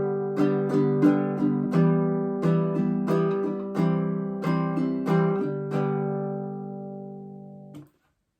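A baritone ukulele strummed in even, steady eighth-note strokes, bright and close, before the final chord rings out and fades to silence.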